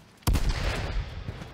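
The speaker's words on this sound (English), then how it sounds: "Classic double barrel." A double-barrel shotgun blast in the Roblox game Gun Testing: one loud, sudden report that rings out and decays over about a second, with no talking.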